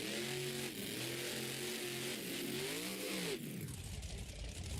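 A monster truck's engine roars and revs during a Monster Jam arena racing run, with its loud, rising and falling pitch sweeping across several seconds before a sharp shift into a rougher, broader rumble.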